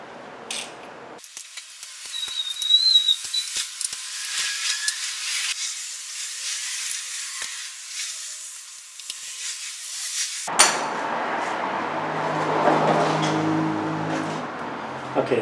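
Hand tools working the valve cover bolts off a car engine, with an extended run of steady mechanical clicking and hissing noise up close, then a quieter, muffled stretch of handling at the end.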